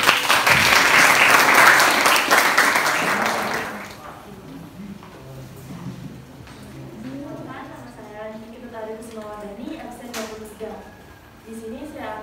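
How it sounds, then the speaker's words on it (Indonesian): Classroom applause for a student returning to her seat during a teaching-practice presentation, loud dense clapping for several seconds that fades as a voice begins speaking over the quieter room. "kita berikan tepuk tangan."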